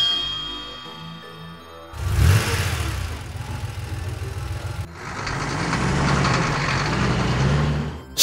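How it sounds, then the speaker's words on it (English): Taxi on a city street, a quiet engine idle that rises into louder revving and running, easing off briefly before revving again close by. "Taxi"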